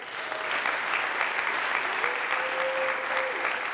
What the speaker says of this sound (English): Brock, everybody clap for Brock.